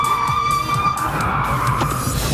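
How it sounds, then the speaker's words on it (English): Car tires squeal in a long, steady, loud skid as the handbrake is pulled for a turn on a driving course, with engine noise underneath. "Then it's time to pull the handbrake."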